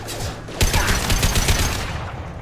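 Gunfire in the video game Mass Effect 2: a loud, close burst of rapid shots that starts suddenly and rattles on for a couple of seconds.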